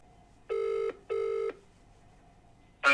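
Voicemail tone on a phone line: two identical electronic beeps, each under half a second with a short gap between, clean and steady against a quiet line, followed by a brief noisy burst at the very end.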